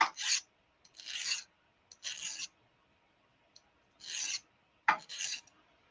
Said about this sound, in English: I usually go around and kind of bevel it just a little bit on the edges.